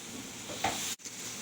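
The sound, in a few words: butter and steak juices sizzling in a pan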